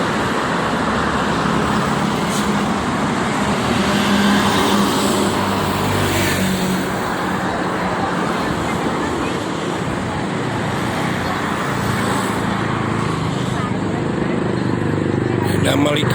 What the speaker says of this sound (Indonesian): Ini Prima Jasa kembali ke arah timur